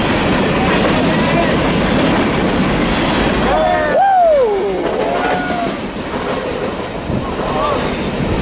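A long freight train rolls past Fullerton Station, a loud, steady rumble with wheel and rail noise and a squealing screech of flanges near the middle, fading a little toward the end.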